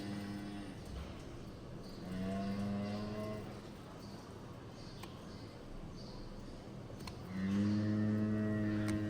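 A cow moos repeatedly during hoof trimming on a sore, bleeding foot: two long, loud, low bellows, one at the start and one in the middle, and a third near the end, over steady background noise.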